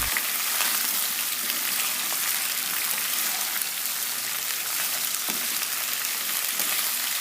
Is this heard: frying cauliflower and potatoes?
yes